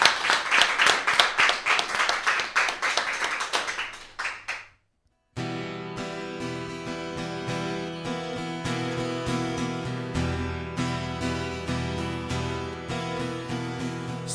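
A television studio audience on a Téléthon broadcast claps for a duo. Bright, dense applause lasts about four seconds and fades into a moment of silence, then acoustic music begins.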